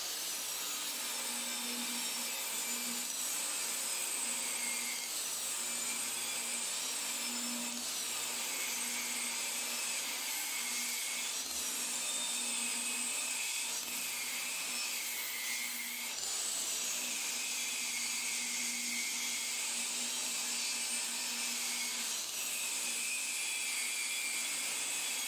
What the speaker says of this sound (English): square off the edges of all these by running them through the table saw.